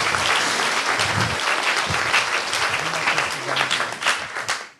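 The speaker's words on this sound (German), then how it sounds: "Ich würde mal bitten, dafür auch einen Applaus für die schönen Bilder." Audience at a youth hackathon presentation gives lively applause, a dense burst of clapping that carries on with a faint voice underneath before tapering off abruptly at the end.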